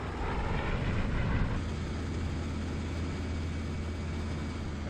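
Propeller engine of a WWII fighter plane in IL-2 1946 throttling up, a steady loud droning roar with a brief surge near the start, then a constant low rumble throughout.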